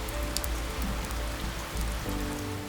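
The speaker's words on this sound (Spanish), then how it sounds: "descansa bajo la lluvia" Steady rain falling on the green savanna grass and acacias, a dense, even patter of drops that stays constant throughout with no voices.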